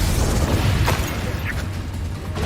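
Confringo explosive spell going off in Hogwarts Legacy, a dense low rumbling boom that sustains through the moment with scattered crackling bursts and no voice over it.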